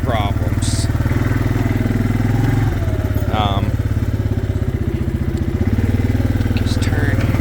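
A 2022 Suzuki King Quad 400 ATV runs in high gear and 4-wheel drive through the woods, a loud, close, pulsing engine chug that stays steady throughout, with a few brief higher squeaks over it.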